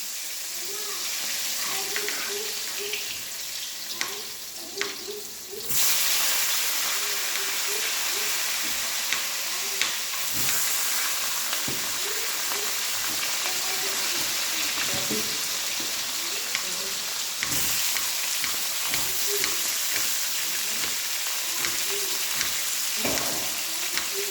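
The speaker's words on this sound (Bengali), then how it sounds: "আচ্ছা, একটু আলু দেবো, আলুটা ভেজে নিচ্ছি।" Potato pieces frying in oil for a katla fish curry, a steady close sizzle with bubbling crackle and occasional stirring clatter, continuous throughout.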